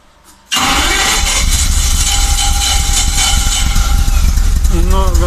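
A Mercedes G-Class engine cranks briefly and then catches, breaking into a loud, steady running roar up close. A voice speaks near the end.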